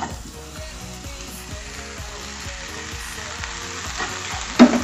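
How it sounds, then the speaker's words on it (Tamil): Chopped nendran banana pieces sautéing in a pan give a steady, even sizzle with faint stirring taps throughout, close and moderately loud, ending in a brief louder scrape with no talking. "இந்த கட் பண்ணி வச்ச நேந்திரப்பழத்தை நம்ம இதில் போட்டு வணக்கிக்கலாம்"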